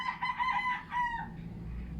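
A rooster crows loudly and close by, a long harmonic call that fades into low background rumble.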